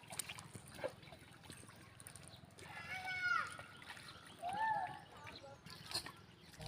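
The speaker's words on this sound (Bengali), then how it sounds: "ও হাত পা ধুচ্ছে জলে।" Water sloshes and trickles close by as a person washes hands and feet in a small tidal creek in the Sundarbans mangrove forest, with a couple of brief high chirps over the soft splashing.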